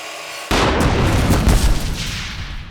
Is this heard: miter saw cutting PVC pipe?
yes